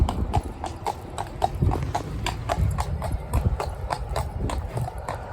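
Steady clip-clop of horse hooves on a hard surface, an even rhythmic stream of sharp knocks, fairly close, with low rumbling background noise.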